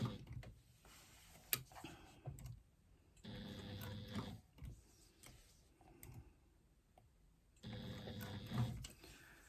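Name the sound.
sewing machine stitching through layers of leather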